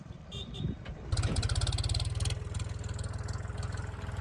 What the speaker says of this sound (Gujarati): તો હાલો આપણે ટ્રેક્ટર લઈને ત્યાં જઈએ